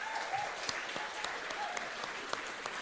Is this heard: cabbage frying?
no